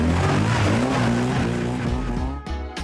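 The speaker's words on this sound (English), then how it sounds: "his weapon of choice is the most manoeuvrable Mini in the world" A classic Mini is thrown through precision autotest stunts, its engine snarling steadily with shifting pitch, then cutting off abruptly in two short bursts near the end; loud and close.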